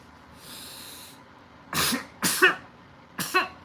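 A few sharp coughs burst out close by, three in quick succession after a faint breathy sound, with no talking.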